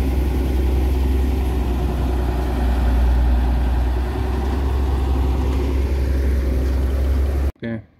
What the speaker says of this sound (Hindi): ये देखें मशीन आ रही है हार्वेस्टर चावल निकालने के लिए।